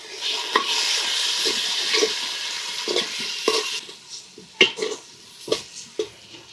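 Onion masala with spices and tomato for egg biryani being sautéed on low heat: a soft sizzle under repeated spatula scrapes and knocks against the pan, roughly once a second, close by and without speech.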